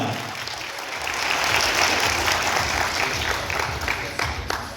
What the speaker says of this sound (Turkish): Teşekkür ediyoruz ve kocaman bir alkış istiyoruz